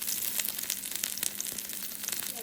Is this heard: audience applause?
no